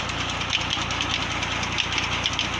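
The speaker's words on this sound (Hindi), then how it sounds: "ट्रैक्टर वो चल रहा है" A tractor engine runs steadily at a tubewell on a farm, a low continuous rumble with faint rhythmic knocking, fairly close and alone without talk.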